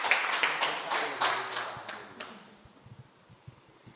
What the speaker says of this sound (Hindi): मैं चाहता हूं एक बार जोरदार तालियां डॉक्टर रुचि चतुर्वेदी जी के लिए।